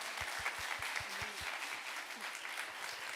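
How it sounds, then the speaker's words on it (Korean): Church congregation applauding at a Sunday thanksgiving service, steady dense clapping throughout with a few low thumps near the start, moderately loud and close, with no talk over it. "우리 아버지께 박수할까요?"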